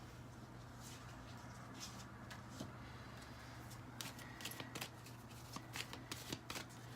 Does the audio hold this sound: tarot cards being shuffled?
yes